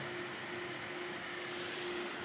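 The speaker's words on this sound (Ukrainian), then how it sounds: "Працюють вентилятори." Cooling fans running inside a 2E VM-2K24 2000 W inverter under repair, a steady whirring hum with a constant tonal drone, faint and unbroken with no talk.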